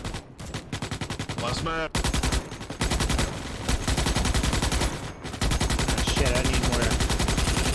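Rapid, loud automatic gunfire in Starship Troopers: Extermination rattles almost continuously in dense bursts, broken by brief pauses, while someone speaks briefly over it.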